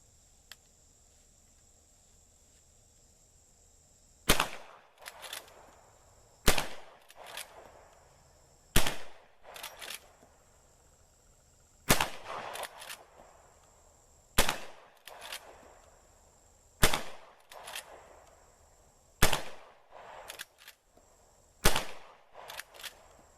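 A Marlin 1894 lever-action rifle in .44 Magnum fires about ten loud, sharp shots at a steady pace of roughly one every two seconds, some followed by a quick echo, with no talking.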